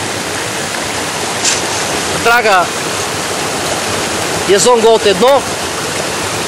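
Fast-flowing river water rushes steadily and loudly around a gold-mining dredge, a dense continuous roar with a voice briefly speaking over it twice.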